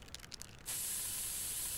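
A pepper spray hiss from the video game South Park: The Stick of Truth, a sudden steady, bright spray that starts after a brief quieter moment and holds loud and constant to the end.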